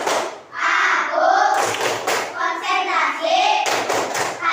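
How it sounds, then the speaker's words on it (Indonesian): Children in a classroom perform a rhythmic clapping game, loud sharp claps in quick patterned bursts mixed with chanting voices, close and energetic. "Kita tepuk konsentrasi."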